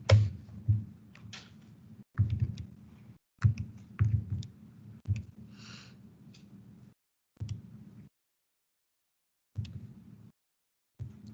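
Keys pressed on a graphing calculator while a function is entered, scattered soft plastic clicks with short low thumps and gaps of silence between presses, close up.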